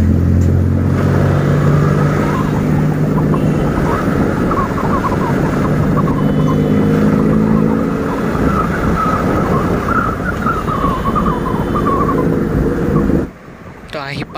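A newly modified Royal Enfield Classic 350 motorcycle runs steadily while being ridden, its engine drone loud and close under heavy wind buffeting, easing off near the end as the bike slows.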